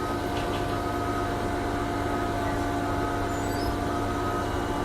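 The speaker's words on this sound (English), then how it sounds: "I'm at the bus stop here, which is why it's a little loud." Traffic roars at a city bus stop, with buses and trucks idling and passing. The rumble is loud, steady and low, with engine hum throughout and no clear breaks or voices.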